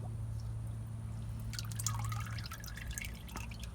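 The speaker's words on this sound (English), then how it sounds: "And I dump it and drain the filter housing out" Old engine oil drains and drips from the filter housing of a 2011 Toyota Sienna during an oil change, a soft steady trickle with scattered drips growing busier midway, low and close against a faint background hum.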